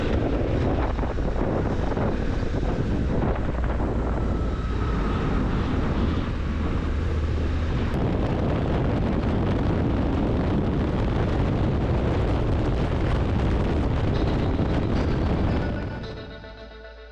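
Suzuki DL800DE adventure motorcycle cruising on a highway, heavy steady wind buffeting and road roar throughout with an engine drone underneath, loud and continuous before fading out at the end.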